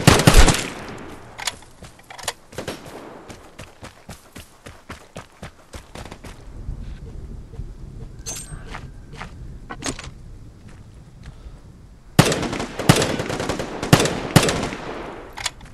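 Bursts of gunfire from a prone shooter in the survival shooter Vigor, loud rapid volleys at the start, scattered single shots and steps through the middle, then heavy sustained fire near the end.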